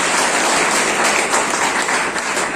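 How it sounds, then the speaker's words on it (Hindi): An audience at a health seminar celebration claps loudly and continuously, a dense, close wall of applause without pauses. "मैं चाहूंगा एक बार उनके लिए भी जोरदार ताली।"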